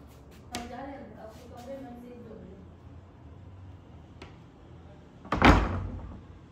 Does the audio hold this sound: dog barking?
no